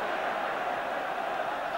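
Roar of a football crowd of about 54,000 celebrating after Manchester United score against Manchester City, a steady wide wash of cheering and noise throughout without a break.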